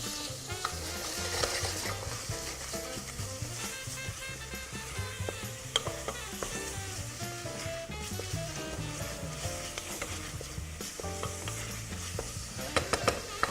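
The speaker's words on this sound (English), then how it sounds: "we're just sautéing them down, sweating them off, making the onion soft, letting it release its flavour, and we're starting to cook" Onion and bacon sauté in a pan with a steady soft sizzle, broken by repeated scraping stirs of a utensil against the pan.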